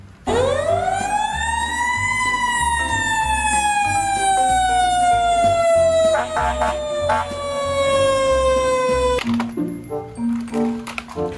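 A fire engine siren winds up fast and then slowly falls in pitch as one long, loud, close wail. Rattling clicks and a short, steady tone follow at the end.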